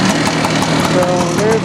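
A 1974 Vespa Rally scooter engine idles close by with a steady, busy putter under a voice.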